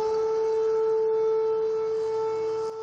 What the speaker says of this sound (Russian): Так звучит сирена в Луганске.